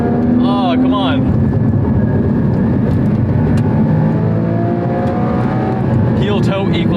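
A Porsche 981 Cayman engine drones loud and close inside the car on tight, twisty canyon roads, with quick revving blips at the start and near the end as the manual gearbox shifts, and a voice talking over it.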